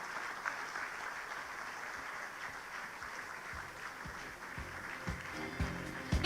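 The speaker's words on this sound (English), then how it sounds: "A round of applause for her," Audience applause at an International Women's Day seminar, a continuous moderate patter of clapping throughout, with a few louder claps and low thumps near the end.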